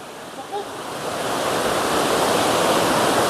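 Dream Falls, a waterfall near Calamba, Laguna, roars in a steady, dense rush of falling water that swells slightly and stays loud and continuous throughout.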